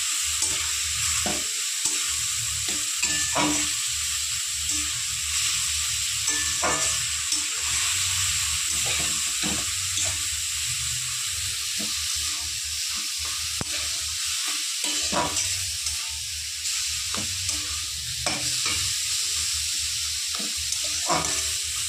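Lentil nuggets (dal bori) frying in a pan with radish, a continuous loud sizzle broken by repeated scraping clicks of a spatula stirring at irregular intervals.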